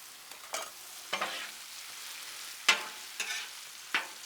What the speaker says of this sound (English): You see that sausage cooking up pretty quickly.